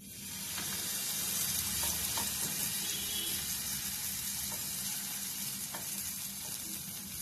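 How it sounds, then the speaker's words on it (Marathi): Moong dal batter sizzles steadily in hot oil in a pan over a lowered gas flame, a continuous close frying hiss with faint clinks, no voices. "तेल चांगलं गरम झालेलं आहे याच्यावरचं. आता गॅस थोडासा मी बारीक करते आणि याच्यावर आता बॅटर घालायचं आहे."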